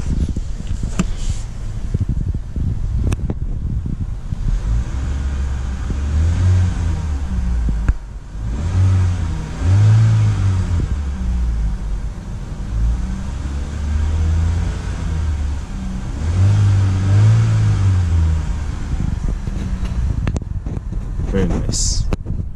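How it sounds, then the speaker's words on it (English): A 2021 Chevrolet Equinox Redline Edition engine revs up several times, deep rumbling surges rising and falling, with wind buffeting the microphone and a voice talking briefly. "I'm just going to give it a couple of revs."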